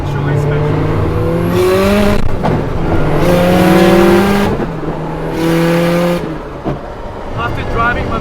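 A modified Nissan Silvia S13 (240SX) drift car, built by a woman drifter, revs hard through repeated gear pulls, its loud engine tone climbing and dropping several times, heard close from inside the car.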